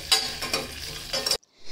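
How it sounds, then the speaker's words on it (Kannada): Rice frying in melted ghee sizzles and crackles as a spoon stirs it, with a brief scraping burst before stopping abruptly near the end. "ತುಪ್ಪ ಕರಗಿದ್ಮೇಲೆ ಅಕ್ಕಿ ಒಂದು 2-3 ಸ್ಪೂನಷ್ಟು ಅಕ್ಕಿ ಹಾಕ್ಕೊತಾ ಇದ್ದೀನಿ. ಇದನ್ನ ಚೆನ್ನಾಗಿ ಫ್ರೈ ಮಾಡ್ಕೊಬೇಕು."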